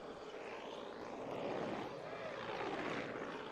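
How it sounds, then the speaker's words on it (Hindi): A helicopter during a rope rescue operation drones steadily at a distance, its rotor and engine noise swelling slightly then holding, with no voices. "हेलीकॉप्टर वहां से पीछे हटता हुआ"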